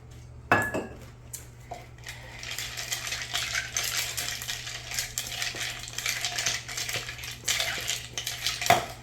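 A White Russian cocktail is mixed over ice, with a sharp clink at the start followed by continuous rattling and clinking of ice against glass and metal, close and fairly loud, with no talking.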